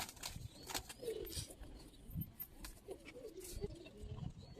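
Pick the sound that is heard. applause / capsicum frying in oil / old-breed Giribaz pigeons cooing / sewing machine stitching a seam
old-breed Giribaz pigeons cooing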